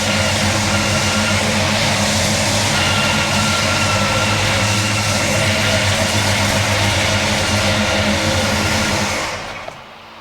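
A Monte Carlo V8 engine runs rough with one spark plug wire disconnected, a loud, steady idle with uneven harmonic throb that holds for about nine seconds before cutting off abruptly near the end.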